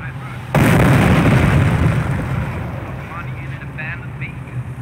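White phosphorus artillery barrage in the WWII strategy game Company of Heroes, a sudden loud blast followed by a long rumbling roar that slowly fades, with faint game sounds around it.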